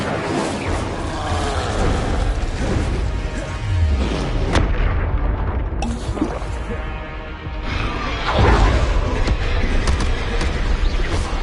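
Fire and combat spell blasts in the wizarding video game Hogwarts Legacy, a dense run of booming bursts and crackling impacts over a steady rumbling bed, loud and continuous throughout.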